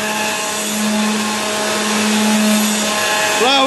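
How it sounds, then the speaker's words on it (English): A kitchen blender runs steadily with a strained, labouring motor hum as flour is added to batter, loud and close, ending with a brief shift in pitch. "The blender is struggling."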